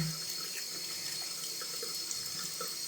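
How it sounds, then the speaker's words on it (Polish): A tap runs steadily into a sink as someone rinses their face with clean water, a continuous close splashing rush with no speech. "Teraz jeszcze przymyję sobie buźkę"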